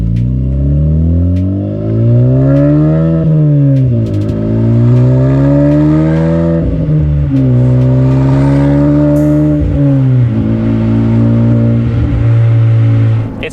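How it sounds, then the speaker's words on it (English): A modified Honda Civic Type R with a turbocharged engine and 3-inch catback exhaust revs repeatedly, loud and close, the muffled, flat warble rising and falling through several throttle sweeps with no talking. "It's a 3-inch catback exhaust, and it really does give this thing not an amazing noise,"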